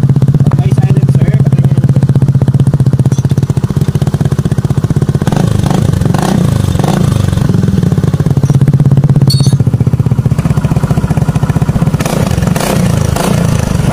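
Suzuki Burgman scooter fitted with an upgraded aftermarket muffler, its engine revving loudly and close with a steady low exhaust drone and rising throttle bursts, plus some clatter, over a continuous running sound with no talk.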